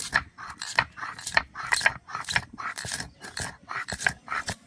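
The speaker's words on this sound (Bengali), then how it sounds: "এবার ভাজা মশলাটা বেটে নেব, ঠান্ডা হয়ে গেছে।" A cooled, fried spice mixture is ground for a vegetarian paneer recipe, with rhythmic gritty crunching strokes repeating about twice a second, close and steady, with no voices.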